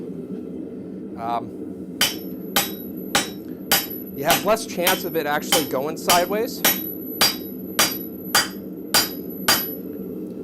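A blacksmith's rounding hammer strikes metal at the forge on a tong-making day, sharp ringing blows landing in a steady rhythm about twice a second, with someone talking between and over the strikes.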